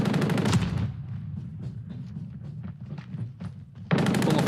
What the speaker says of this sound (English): Pull up a Rambo. Use that war machine.